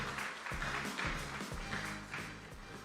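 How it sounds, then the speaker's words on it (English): Quiet applause from a conference audience at a Mumbai media summit and awards event, a low steady patter of clapping with a few heavier taps and thuds, lasting about three seconds without talk. "please welcome her with a round of applause."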